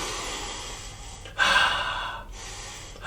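Slow, deep breathing heard close up: a long airy inhale, then a fuller exhale, and another breath starting, with no talk, during a mindfulness breathing exercise.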